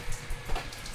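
Water leaking from a camp room, heard as soft, close irregular drips and trickling over a faint steady background hiss.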